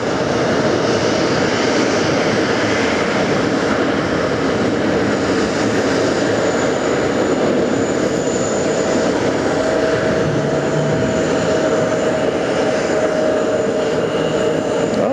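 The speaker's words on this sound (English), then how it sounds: "That's a vastly long takeoff run." An Etihad airliner on a long takeoff run at JFK airport, a loud continuous jet engine roar and rumble held steady throughout, heard from an outdoor spotting position without speech.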